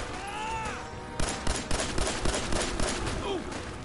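Rapid gunfire in Fallout 4 rattles out in a series of loud, punchy shots after a brief stretch of other game sounds, the bursts coming in a quick uneven rhythm.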